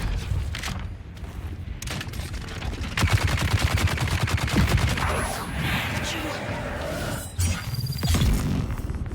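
Heavy gunners in the video game Dune: Awakening fire dense rapid bursts of automatic gunfire, loud and sustained with brief pauses, while a player talks over it.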